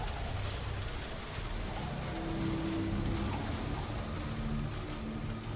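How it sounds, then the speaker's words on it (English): Steady rain in Star Citizen heard from inside a ship, a continuous soft hiss of drops on the hull under a faint low hum, with no voices. "We can still hear the rain a little bit, right?"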